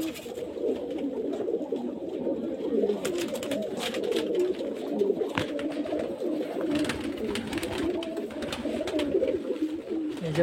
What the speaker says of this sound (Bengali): সব মুর্শিদাবাদের গিরিবাজ লাইনের পায়রা।